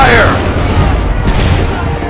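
Musket volley in Assassin's Creed 3, a loud booming burst of massed gunfire that cracks at once and then rumbles and decays over a couple of seconds, with shouted commands nearby.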